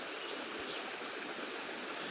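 A mountain stream on the Appalachian Trail rushes in a steady, dense hiss of flowing water, close and continuous, with no voices.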